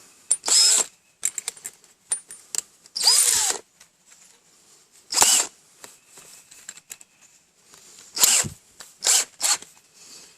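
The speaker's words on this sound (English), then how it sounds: "Now we're ready to use the step bit." A power drill fitted with a step bit bores holes in a #10 steel can, giving several loud, short whining bursts separated by quiet pauses, close up.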